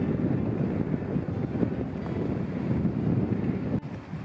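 Wind buffets the microphone while cycling along a river trail on a windy day, a continuous low rumbling roar that stays strong throughout with no talk.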